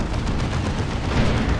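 Gunfire in the real-time strategy game Dawn of War 2 sounds as a dense, continuous rattle of rapid shots and low booming, steady and busy throughout the short stretch.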